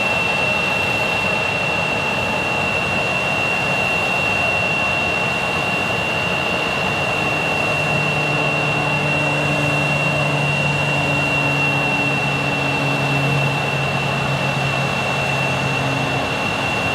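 A Cessna 208 Caravan single-turboprop aircraft at Tucson International Airport, a steady broadband drone with a sustained whine and a low engine tone rising in the later seconds, continuous and moderately distant, with no voices.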